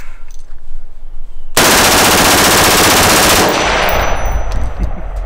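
An MK-18 rifle fired in real life, a sustained loud burst of rapid automatic gunfire beginning after a quiet stretch and ringing on for a couple of seconds, then trailing off into echo and fainter shots.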